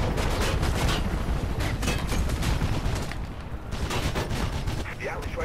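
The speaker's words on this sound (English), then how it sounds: "They're still shooting at me." Enemies fire guns in Mirror's Edge, dense bursts of rapid shots and booms packed tightly together, loud and continuous with a short dip midway.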